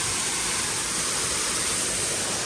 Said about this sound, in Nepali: कागेश्वर मन्दिरको झरना हो है गाइस